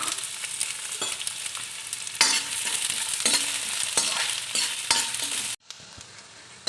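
Onions hit hot oil in a pan for veg fried rice and sizzle loudly and continuously, a dense crackling hiss with spatula stirring accents, near and steady until it suddenly cuts out near the end.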